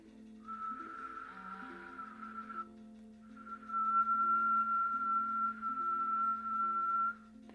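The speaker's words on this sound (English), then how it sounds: "exhaling in one long exhalation through the mouth," A long whistling exhalation through the mouth: one steady breathy whistle, a short pause, then a longer, louder sustained whistle.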